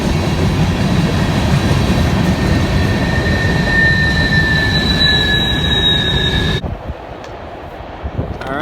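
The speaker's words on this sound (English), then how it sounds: "Gotta wait for the freight train to go by." A freight train rolls past a trail crossing, a loud steady rumble of wheels with drawn-out high squeals, then cuts off abruptly near the end, leaving quieter outdoor sound.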